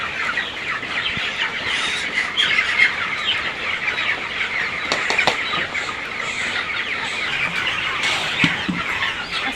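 Chickens on a poultry farm cluck and murmur continuously in a busy flock, with occasional wing flaps and scratching close by, no talking.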